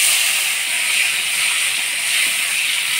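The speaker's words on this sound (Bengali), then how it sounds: "এবার টমেটো কুচি দিয়ে দিব।" Chopped tomato hits hot oil tempered with whole cumin, dried red chilli and bay leaf for a rohu fish curry with potato and pointed gourd, giving a steady, loud hissing sizzle that runs unbroken and close throughout, with no talking.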